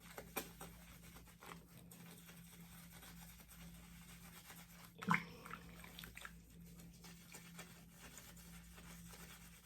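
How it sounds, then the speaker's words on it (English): A makeup brush swirls in soapy warm water, giving a quiet, close sloshing and rubbing with soft patters and one brief louder splash midway. "See how I'm swirling in that soapy warm water?"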